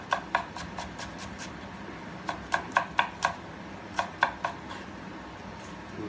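Knife blade striking a cutting board while finely chopping onions, crisp sharp taps in short quick bursts with brief pauses between, close and fairly quiet.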